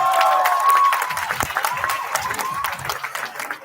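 Audience applause after a performance at an annual college festival, a dense wash of clapping with some cheering that starts loud and slowly thins over a few seconds. A sustained whistle-like tone runs over the claps near the start.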